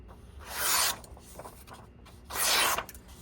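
A knife edge slicing through paper in a sharpness test, two loud, harsh rasping swipes about two seconds apart, close and crisp with quieter scraping between.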